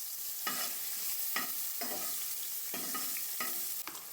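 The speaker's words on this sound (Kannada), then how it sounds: "ಸಾಸಿವೆ, ಜೀರಿಗೆ ಮತ್ತು ಸ್ವಲ್ಪ ಕರಿಬೇವಿನ ಸೊಪ್ಪು, ಸ್ವಲ್ಪ ಈರುಳ್ಳಿ ಫ್ರೈ ಆದಮೇಲೆ ಸ್ವಲ್ಪ ಟೊಮ್ಯಾಟೊ, ಇದೆಲ್ಲ ಹಾಕಿ ಸ್ವಲ್ಪ ಹೊತ್ತು ಫ್ರೈ ಮಾಡಬೇಕು." Mustard seeds, cumin, curry leaves, onion and tomato frying in oil for egg curry, a continuous hiss with repeated scraping strokes of a spoon stirring the pan, close and moderately quiet, no voices.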